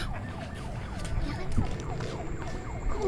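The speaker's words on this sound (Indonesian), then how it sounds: "tiba-tiba guys, ada suara ambulan dari arah kali" An ambulance siren wails repeatedly from the direction of a river beside a village, rising and falling over a rumbling background, moderately distant.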